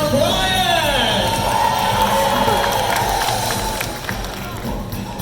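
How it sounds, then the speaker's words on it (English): Large stadium audience at a live Fear Factor stunt show at Universal Studios Orlando cheering, whooping and clapping in a loud sustained roar that fades slightly toward the end. "Let's hear it for Brian!"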